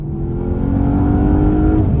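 Porsche Panamera Sport Turismo Turbo accelerating hard, a loud, steady engine roar with rising harmonic tones that builds and holds throughout, no voices.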